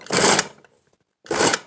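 A Mosaic electric food chopper with two blades runs in two short pulses, loud and close, its motor whirring briefly, stopping, then whirring again.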